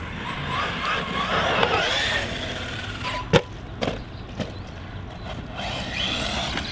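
A Maverick Quantum+ XT Flux radio-controlled car on a 3S battery drives with a steady, whining motor and tire noise. Sharp impacts and clattering bumps break in midway before the drive continues.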